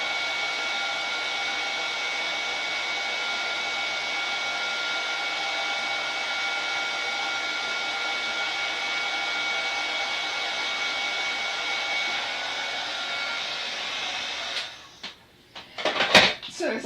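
A crafting heat tool warms the front and back of a sheet of crafting dough, blowing a steady whirring hum for about fourteen seconds before switching off, followed by a few clattering knocks.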